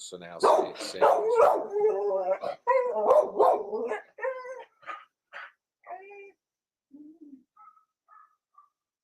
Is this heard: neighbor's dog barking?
yes